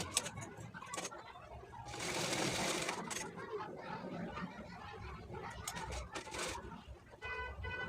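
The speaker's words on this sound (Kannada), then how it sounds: "ಬ್ಲೌಸ್ ಹೊಲಿಯೋಣ ಅಂತ ಹೊಲಿತಾ ಇದ್ದೀನಿ ನೋಡಿ" A sewing machine stitches a blouse at home in steady, close whirring runs. A longer continuous burst is followed by shorter stop-and-start passes, with someone talking over it and birds in the background.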